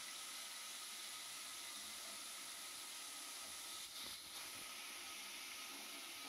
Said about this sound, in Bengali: ওই তেলের মধ্যে গ্রেভিটা থেকে ছেঁকে ছেঁকে আমি সমস্ত ফুলকপিগুলো দিয়ে দেবো।